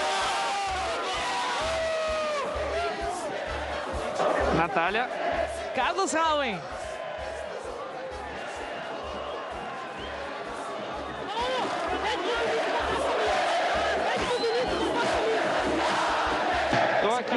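Figueirense football fans chant and cheer at the Recopa Catarinense 2022 championship celebration, a loud continuous crowd roar with a pounding drum beat and whistles, while a broadcaster talks over it.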